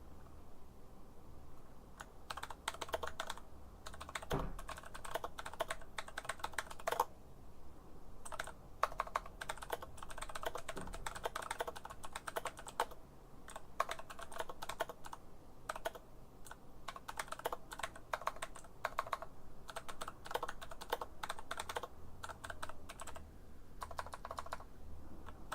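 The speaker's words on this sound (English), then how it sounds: "my keyboard's going mental" Rapid, continuous typing on a computer keyboard, a close, busy clatter of key presses in uneven bursts with short pauses and no speech.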